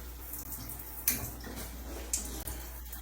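Weak trickle of water from a hotel shower with low water pressure at a resort, a faint, uneven splashing flow with a couple of brief clatters, no voices.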